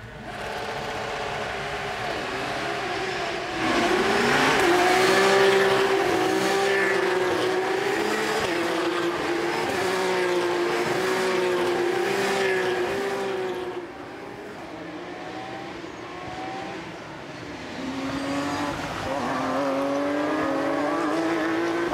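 Porsche Carrera Cup France race cars rev and roar around the Imola circuit at a race start, a loud, continuous blend of engine notes that swells and dips as cars pass, with no talking.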